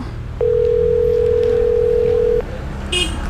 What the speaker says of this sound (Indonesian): Coba kita telepon si Yola.